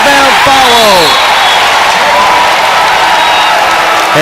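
Loud crowd roar and applause fill a college basketball arena during a Buffalo versus Central Michigan men's game, sustained and dense with an announcer's voice over it at first.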